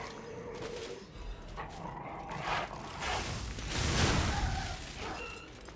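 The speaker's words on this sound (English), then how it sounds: "Oh, poor doggy." A dog whimpers and yelps in the video game Lies of P, with short whining cries rising and fading among game sounds, then a louder burst of combat noise partway through.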